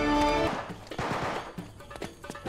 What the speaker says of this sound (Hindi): यहां पर भी गोलियां चल ही रही हैं।